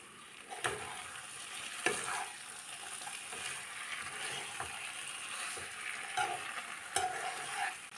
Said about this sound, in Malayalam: ഇനി ഇത് അടച്ച് വെക്കാതെ ഇടയ്ക്ക് ഇളക്കി കൊടുത്ത് ബാക്കി വെള്ളവും കൂടി പറ്റിച്ചെടുത്താൽ മതി